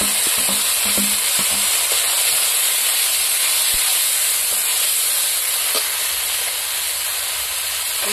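A paste of ground dried chili, ginger, garlic and cumin sizzles in a hot pan for a village-style fish and cabbage curry, a steady close frying hiss with a few faint clinks of stirring.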